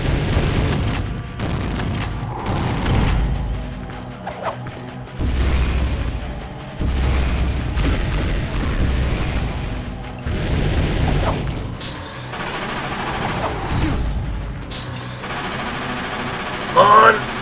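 Minigun fire in the Spawn Armageddon video game, with bursts of rapid mechanical booms and crashes that come in repeated volleys over a busy mix of in-game action and effects.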